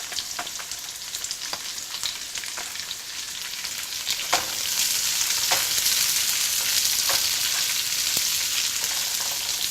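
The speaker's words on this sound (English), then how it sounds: "So you add in your brown onions." Brown onions fry in a pan over medium heat, a loud continuous sizzle that swells after a few seconds, with scattered crackles and spatters and no talking.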